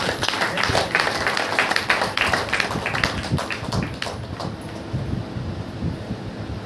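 A church congregation claps hands in praise during a Saturday power meeting, a fast, loud, steady rhythm of many hands that fades toward the end.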